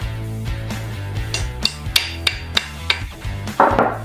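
A hammer taps a pin into an AR-15 lower receiver, a run of about six sharp metallic taps at a steady pace over a background hum, loud and close.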